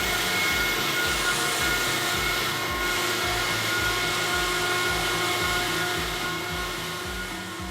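An Atlas Copco liquid ring vacuum pump test rig for extreme humid conditions runs with a loud, steady mechanical roar and a fast, regular pulsing throb, unbroken throughout with no talking.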